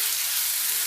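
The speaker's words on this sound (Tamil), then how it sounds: "அந்த மசாலா சேர்த்துக்கோங்க. சேர்த்து நல்லா வதக்கிக்கோங்க." Crab masala with ginger, garlic, pepper and cumin sautés in a pan, a brief, even, hissing sizzle heard close up.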